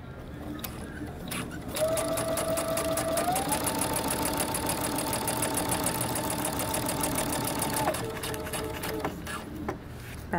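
A sewing machine stitches a coat seam in a continuous, evenly pulsing run lasting several seconds, close and clear, with a brief pitch change partway through and small handling clicks at the start and end.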